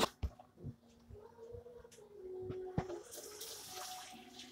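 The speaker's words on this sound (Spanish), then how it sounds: "Me voy a lavar las manos primero." Water runs from a tap as hands are washed at a kitchen sink before making empanadas, a steady close splashing stream that swells louder in the second half with a few clatters and knocks.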